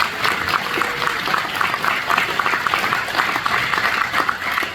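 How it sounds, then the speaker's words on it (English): Applause from an audience at a memorial service, a dense, steady patter of many hands clapping throughout without any break. "Celebrate, yes, please"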